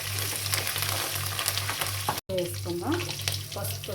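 Curry leaves and chillies hit hot oil for a village-style raw mango pulihora, producing a loud, continuous crackling sizzle with a low steady hum beneath and a brief dropout midway.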